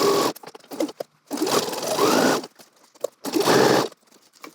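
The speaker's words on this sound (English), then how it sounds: "we're going to stitch all the way down to this dot here in the pocket bag." A sewing machine stitches around a garment pocket bag in three loud, close bursts of whirring, separated by short pauses with small clicks.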